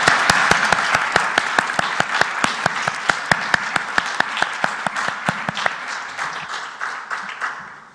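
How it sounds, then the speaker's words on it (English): Audience applause at the close of a panel session on human capital and inclusive growth, steady crowd clapping with sharp, regularly spaced individual claps standing out near the front, gradually thinning and fading over eight seconds. "I will start applauding to all of you for making this happen."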